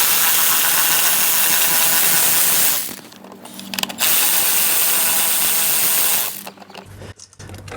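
A ratchet undoes the bolts holding the airbox to the carburetors on a Kawasaki Ninja ZX6, making two long bursts of rapid, close clicking separated by a short pause and followed by quieter handling noises.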